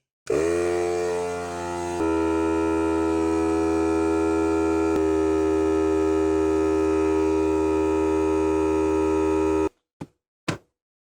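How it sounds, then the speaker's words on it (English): Small air compressor powered by a 12-volt 100Ah lithium battery, running with a steady droning motor hum that starts abruptly, holds for about ten seconds and then cuts off, followed by a couple of brief clicks. "And I got this little compressor here."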